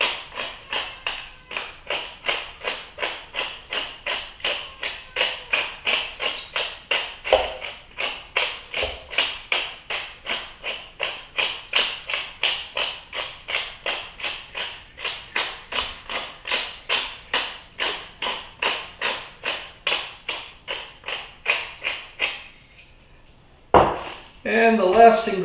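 A pepper mill grinds coarse black pepper up close in a steady run of sharp, evenly spaced crunching clicks, then a short pause and a few final louder turns.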